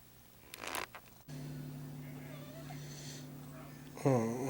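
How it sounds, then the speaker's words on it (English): A cat's low, steady purr hums continuously near the microphone, with brief rustling at the start and a short vocal sound near the end. "You hear him purr?"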